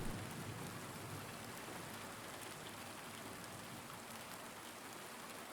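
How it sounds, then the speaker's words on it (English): Steady rain hisses and patters continuously in the Silent Hill 2 Remake video game, a dense even wash of sound with no talking, fairly quiet overall. "So the rain is just kind of a big cylinder that travels around with James."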